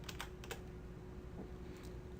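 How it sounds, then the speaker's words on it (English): Computer keyboard keys pressed for a Control Z undo shortcut give a few soft, quick clicks, quiet and close, with no talking. "I'm just going to hit Control Z on the keyboard to undo that."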